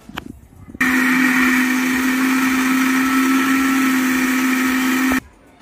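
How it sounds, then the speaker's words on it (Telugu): Kitchen mixer grinder blending puffed rice with curd, a steady loud whirring motor hum running for about four seconds before stopping abruptly. "దీన్ని ఒకసారి అయితే మిక్సీ చేసి పెట్టుకుందాం"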